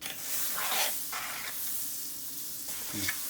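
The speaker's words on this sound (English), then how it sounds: "then put on some new butter onto the pan" Butter sizzling and spitting in a hot frying pan while a sandwich is pan-fried, a steady close crackle with brief stirring scrapes and no talk.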